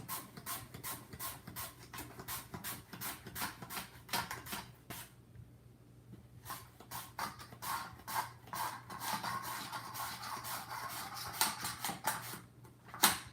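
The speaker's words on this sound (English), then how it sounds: "So I'm just gonna cut thin chips." A slicer with a safety guard cuts thin potato chips in a home kitchen, giving a steady run of quick, rhythmic scraping strokes, close and moderately loud, with a short pause partway through.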